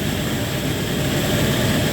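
Six-meter grain auger turned by a 4 kW single-phase electric motor, powered from a generator while loading soybeans in a warehouse: a loud, steady mechanical drone with a low rumble and broad whine, unbroken throughout.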